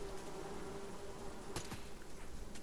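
Wasps buzz in the Fortnite video game as a steady, droning insect hum that holds through the whole moment. A couple of sharp game effects cut across it, and no one talks.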